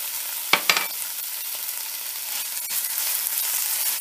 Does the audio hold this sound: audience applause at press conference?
no